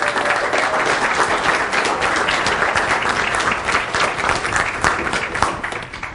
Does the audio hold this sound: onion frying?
no